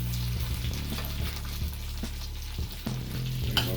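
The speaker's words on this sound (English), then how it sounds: "The mushroom caps in this frying pan." Steady crackling and sizzling of mushroom caps frying in a pan, with occasional louder pops and scrapes, no voices.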